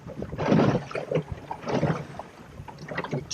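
A sailboat under way off the South Breton coast, with hull swish, water rushing and gusty wind buffeting the microphone in uneven surges. No one talks.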